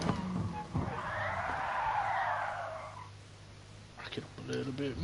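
Car sliding sideways in a rally stage in GT Sport, a broad tire-skid hiss swelling for a couple of seconds with engine rumble underneath, then fading as other game sounds return.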